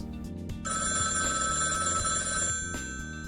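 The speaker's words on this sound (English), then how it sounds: "The phone rings." A telephone bell rings loudly in a sustained bright trill lasting about two seconds, then breaks off and starts again at the end, with no voices.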